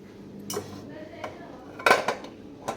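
Heavy steel and copper pressure cookers are handled and set down in a home kitchen, giving a few sharp metallic clanks and clinks at irregular moments, the loudest near the end, against a quiet room.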